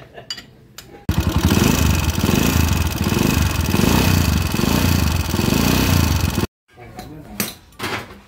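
A freshly overhauled motorcycle engine revs loudly for several seconds with a fast, cricket-like metallic ticking in the roar, then cuts off abruptly, followed by quieter shop noise and a brief voice.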